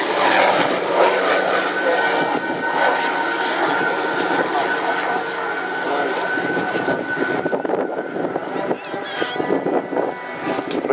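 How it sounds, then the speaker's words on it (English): A single-engine light observation helicopter with a four-bladed main rotor drones steadily overhead at the 2016 Southport Air Show, its whirring rotor texture holding close throughout. "Single engine light helicopter with four-bladed main rotor used for personal transport, escort and attack missions"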